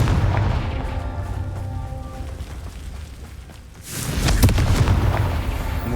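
A Confringo fire spell in Hogwarts Legacy explodes in a loud blast, preceded by a sustained rumbling roar of magical combat, with no voices.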